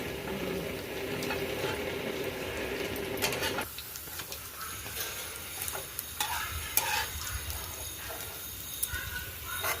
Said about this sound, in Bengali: এবারে পরের ব্যাচটা ভেজে নেব। পরের স্টেপটা এবার ভেজে নিচ্ছি।